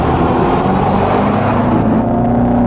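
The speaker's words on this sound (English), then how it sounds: "I can really hear that muffler in the back." Dodge Charger EV accelerating in track mode, heard from inside the cabin as a loud, steady synthetic engine-like drone with low rumble and broad whir, no speech.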